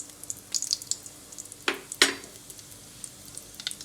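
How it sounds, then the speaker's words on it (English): Bay leaves, cinnamon, cardamom, cloves and black pepper drop into hot mustard oil for chicken biryani, giving a soft steady sizzle with a few sharper crackling bursts near the middle. "Now the mustard oil is hot. I'll put bay leaves, cinnamon, cardamom, cloves, and black pepper."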